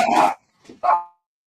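A small dog gives a few short, sharp barks at close range: a quick pair, a brief pause, then a final yip, with no voices.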